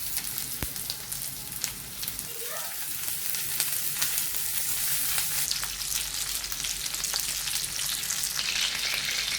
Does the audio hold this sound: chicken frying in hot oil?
yes